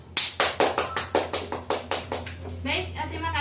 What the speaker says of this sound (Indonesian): untuk Ginar beri tepuk tangan terlebih dahulu buat Ginar